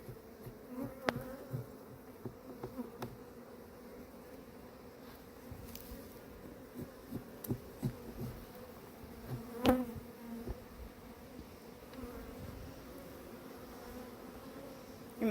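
Honey bees hum steadily around an open hive frame full of honey, a low continuous drone with scattered closer buzzes and faint clicks of handling, no voices.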